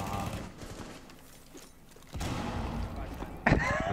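Gunfire in the shooter game Rainbow Six Siege: a dense burst of shots starts around the middle and runs to the end, loud against game ambience, with talk.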